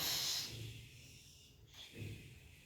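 A voice blows a hissing breath out between the teeth, imitating the Arabic letter shin: a sharp airy hiss at the start, a softer breath, then a second short puff, close and quiet.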